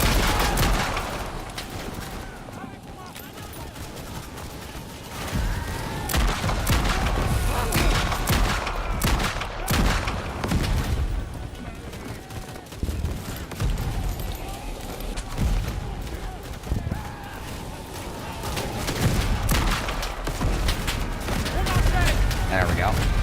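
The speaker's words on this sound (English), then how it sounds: "It's a good barrage." A dense WWI gunfire barrage in the video game Over The Top: WWI, with rapid overlapping rifle and machine-gun shots and booms rolling on continuously, loud and close, with voices talking over it.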